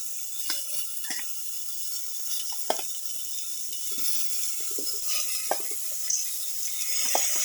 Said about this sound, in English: Put in the marinated mutton and chayote pieces